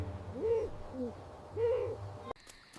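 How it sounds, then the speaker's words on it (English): An owl hoots in a fairy-tale night scene by a cottage, giving three deep, wavering calls spaced about a second apart, clear and fairly close, followed by a brief sharp rustle at the end. "An old owl hooted 3 times."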